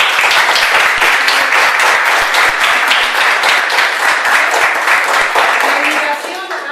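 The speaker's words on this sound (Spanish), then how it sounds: "le pido un aplauso para..." An audience at a social communicators' gathering in Comodoro Rivadavia gives Romina a sustained round of applause, dense steady clapping throughout that thins slightly at the end.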